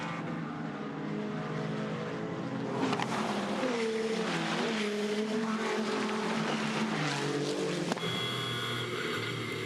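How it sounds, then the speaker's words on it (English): GT2 race cars at Hockenheim rev and accelerate past, layered engine whines rising and falling in pitch as several cars go by, loud and continuous with no talk. "Thomas Anderson has got a chance to strike on the resumption of the race now"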